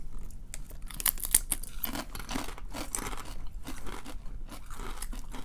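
Crunchy Hawaiian-style kettle chips are bitten and chewed up close, giving a run of crisp, irregular crunches and crackles in bursts, fairly quiet overall, with no talking.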